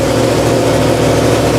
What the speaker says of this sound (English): Here is what a Yamaha R1 sounds like with just the end piece knocked off.